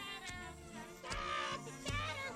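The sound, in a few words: cat meowing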